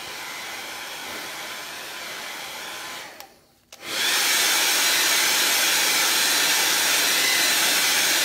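Hair dryer blowing on freshly made artwork, a steady loud whoosh that stops briefly, then returns even stronger and more continuous, with no talking.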